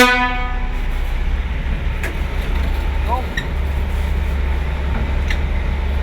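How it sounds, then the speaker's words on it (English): A works train rumbles through an underground tunnel-boring construction site, a loud steady rolling drone with a horn toot at the start and scattered clanks, with a voice talking over it. "This train ride is going to take us approximately 20 minutes."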